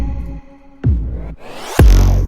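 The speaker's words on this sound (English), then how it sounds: "he also added this like secondary kick sound that adds rhythm" A secondary kick drum in a Martin Garrix and Mesto Limitless drop remake, deep booming hits in a sparse rhythm fading into a rising swoosh, loud and close with no voices.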